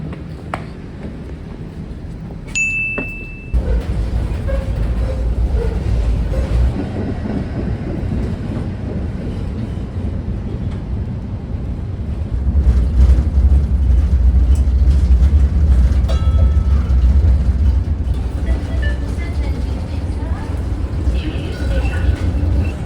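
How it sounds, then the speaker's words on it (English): A Brussels tram rumbles in and keeps running, its low rolling drone growing louder and steadier about halfway through, with a brief high chime near the start and someone talking over it. "Let me try to get that tram."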